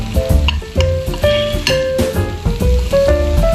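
Spice powders, chilli and coriander among them, toasting in a pan for chicken curry: a close, loud sizzle mixed with rapid scraping and clattering of a stirring utensil, busy and continuous, with no voices.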